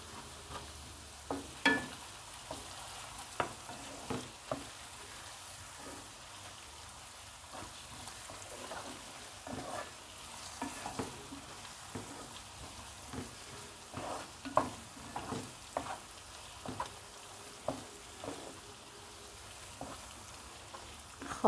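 Tomato paste fries in oil for a green lentil stew, a soft continuous sizzle broken by scattered light spits and pops and occasional spoon scrapes, moderately quiet and close, with no talking.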